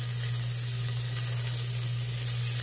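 Sliced calabresa sausage frying in very hot oil, a loud continuous sizzle with a steady crackle under it and a low constant hum, with no talking.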